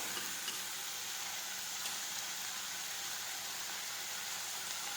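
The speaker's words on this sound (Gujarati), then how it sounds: "હવે આપણે સાતળી લઈશું." Spices sauté in a pan for a fenugreek (methi) curry, giving a steady, faint, hissing sizzle that continues unbroken with no talking.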